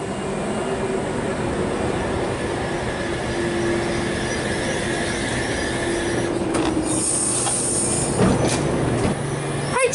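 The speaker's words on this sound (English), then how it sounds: "H22 is now departing platform number 1." Sydney suburban train H22 at Cowan station platform rolls steadily close by with a continuous rumble, wheel squeal and rattling near the end; no talk.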